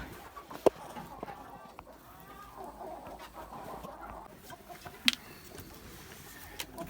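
Bielefelder hens in a coop, with scattered soft clucks and a couple of sharper calls over quiet barnyard ambience, fairly faint and at a moderate distance.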